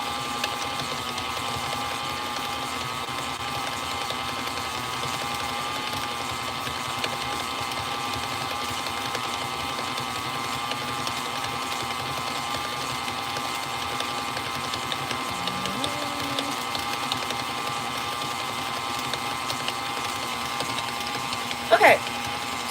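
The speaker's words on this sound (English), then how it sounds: "we have our butter and our sugar mixing" Steady mechanical whir and hum of an electric stand mixer creaming butter and sugar, continuous and moderately quiet throughout, with a brief voice and a short clatter near the end.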